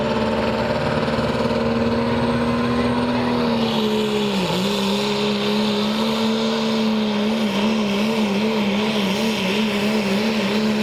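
A modified 5.9 Cummins diesel pulling truck roars continuously and loudly at a truck and tractor pull, the engine note holding steady then wavering and dipping slightly as it strains.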